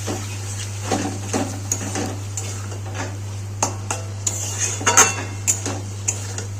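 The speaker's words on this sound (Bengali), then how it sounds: "দিয়ে মশলাটাকে ভালো করে কষিয়ে নেব" Ginger-garlic paste and ground spice masala with a little water being stir-fried in a pan for a fish dish: repeated metal spatula scrapes and clanks against the pan, some faint sizzling, and a steady low electrical hum underneath.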